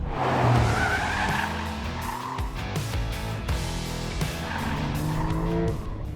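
A Porsche 911 GTS engine roars and surges with tires squealing, loud and close, the tone rising and dropping as it accelerates and slides.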